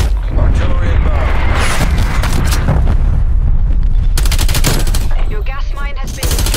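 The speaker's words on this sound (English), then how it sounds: "Hostile artillery targeting active. Artillery inbound." Artillery strike in a video game battle: dense, loud, continuous barrage of gunfire and booming impacts with crackling blasts, with an in-game voice speaking over the din.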